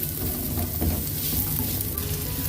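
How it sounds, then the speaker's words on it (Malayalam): Shallots sizzle steadily in hot oil in a pan as they sauté with crushed ginger, garlic and curry leaves for a Kerala-style prawn roast, a continuous close crackle with light stirring. "നമുക്ക് ചെറിയ ഉള്ളി ഇട്ട് കൊടുക്കാം ചെറിയ ഉള്ളി ഒന്ന് നന്നായിട്ട് വഴന്നു വരട്ടെ"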